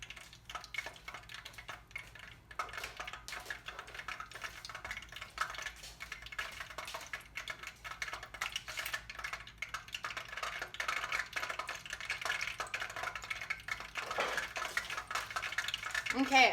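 Churro dough frying in hot oil fills the whole stretch with a close, steady crackle and spit, broken by light clinks of utensils or cookware.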